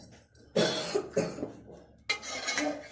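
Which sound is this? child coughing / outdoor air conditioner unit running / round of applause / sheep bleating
child coughing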